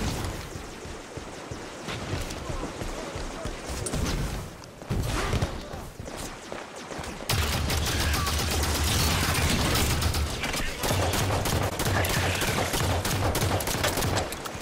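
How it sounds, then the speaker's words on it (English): Rapid bursts of Halo gunfire crackle throughout, dense and continuous, growing louder and heavier partway through as the shooting intensifies. "I hear gunfire, but I just do not see enemies."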